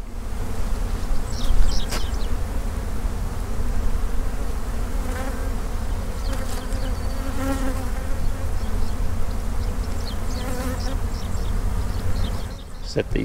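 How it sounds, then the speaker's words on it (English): A steady swarm-like hum of many honeybees in flight fills the air, with individual bees buzzing close past now and then. "Hear that bee flight?"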